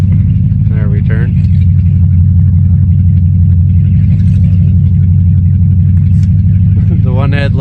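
A Lincoln car's engine rumbles loud and close from inside while driving, a steady low drone with no letup, and a person talks briefly over it at the start and end.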